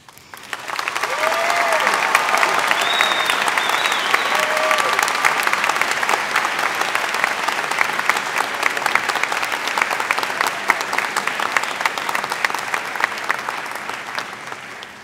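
Sustained applause from a large commencement audience honoring the student speakers, loud and continuous for about fifteen seconds with a few brief cheers rising over the clapping.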